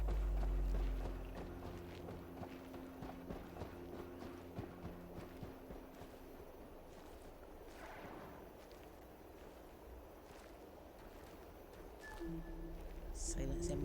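Quiet hooves clip-clop in a steady walking rhythm beneath soft ambient noise in the video game Horizon Zero Dawn, with a faint voice briefly heard near the end.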